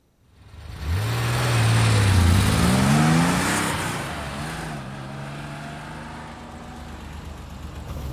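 A 2019 Porsche Cayenne revs up loudly under acceleration, its engine note climbing in pitch, dropping at a gear change and rising again before settling into a steadier, quieter drone.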